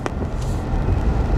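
Trucks rumble past at close range, a low continuous engine drone with road noise that swells slightly toward the end, with no voices over it.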